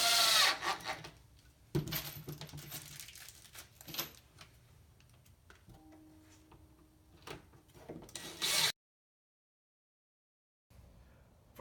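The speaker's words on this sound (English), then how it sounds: "Just want to go ahead and insert your H7 screw" An H7 screw is tightened into a pre-drilled hole in a table during furniture assembly, giving intermittent faint scraping and creaking turns with short louder twists and a silent gap near the end.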